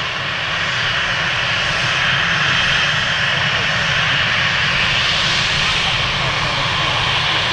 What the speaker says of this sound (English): KLM 737 on the roll as well